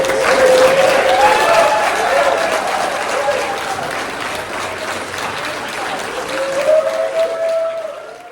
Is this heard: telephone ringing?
no